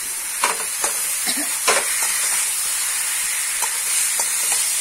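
Potatoes and chicken sizzle and hiss in a hot pan while a utensil stirs, with several sharp scraping strokes over the steady frying.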